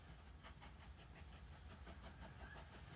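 A large train in the railway game Mashinky pulls into a platform, its faint rhythmic clatter of wheels and rumbling engine running steadily throughout at low volume.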